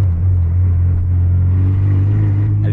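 An Acura RSX engine hums with a deep steady rumble from inside the cabin while driving, a constant low drone with slight rises in revs.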